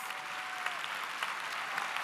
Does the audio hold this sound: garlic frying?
no